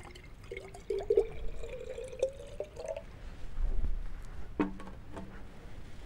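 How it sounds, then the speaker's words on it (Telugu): Water poured into a conical flask for a potassium permanganate classroom experiment, a faint trickle rising in pitch as the glass fills, with scattered drips and clinks, quiet and close. "ఒక సాంకో కుప్పే తీసుకొని దానిలో సగం వరకు నీటిని పోయాలి"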